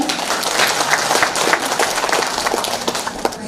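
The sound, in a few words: audience applause at a concert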